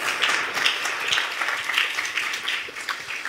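Audience applause at a youth event, a dense steady wash of many hands clapping close and loud throughout, with no voices over it.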